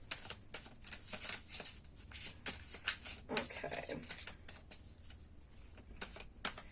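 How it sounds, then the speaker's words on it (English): Tarot cards shuffled by hand in a steady run of soft riffling, slapping bursts, close and fairly quiet, with a brief spoken word from the reader. "So let's continue shuffling."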